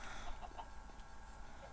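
Chickens clucking in the video game Minecraft, a few soft, brief clucks over a steady faint background hum.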